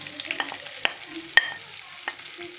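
Vegetables fry in ghee in a pan, giving a steady close sizzle broken by a few sharp scrapes and clinks as they are stirred.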